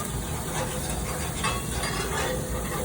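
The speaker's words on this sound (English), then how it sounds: "Okay, we can turn our mushrooms now. I can feel they're hot, they're cooking a little bit here." Mushrooms cooking in a hot pan alongside fish are turned over, making a dense continuous sizzle with faint scraping, close and fairly loud.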